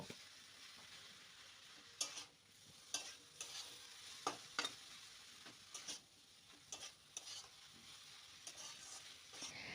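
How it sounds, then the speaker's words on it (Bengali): Potatoes and cabbage frying in a pan for a Bengali cabbage dish are stirred, giving a faint, steady sizzle with periodic scraping strokes of the spoon, close and without talking. "এবার আলুটা দিয়ে আবারও আমি 2 মিনিটের জন্য একটু আমি নেড়ে চেড়ে নেব।"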